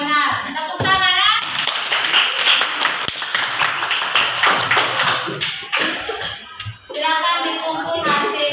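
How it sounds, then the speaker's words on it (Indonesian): Children clapping hands in a classroom, a lively rattle of many small claps lasting several seconds, with a teacher's voice heard before and after. "Tepuk tangan ya."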